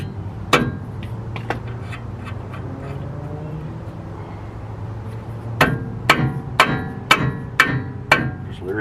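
Hammer blows on a tie rod end of a 1984 Chevy K20 truck, two sharp metallic strikes early, a pause with low background hum, then a quick close series of about six loud hits.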